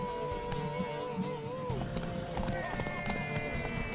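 Horse hooves clip-clop at a steady gallop in the Witcher 3 video game, close and rhythmic beneath game music and a speaking voice, with a brief whinny.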